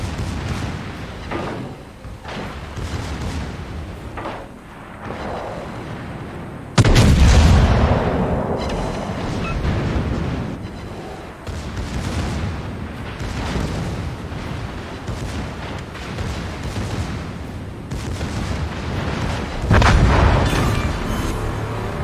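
Warship main gun barrels firing in the World of Warships naval battle game, a series of heavy booming salvos with rumbling blasts, the loudest burst around the middle and another near the end, no talking.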